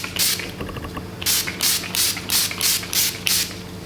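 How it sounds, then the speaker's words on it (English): A spray bottle is pumped repeatedly, giving a quick series of short hissing bursts close to the microphone, with no voices. "we've got a bit of setting spray."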